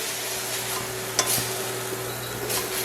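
Ginger, garlic and green onions sautéing in a pan, a steady close sizzle with a few clinks of a utensil as they are moved around, no voices.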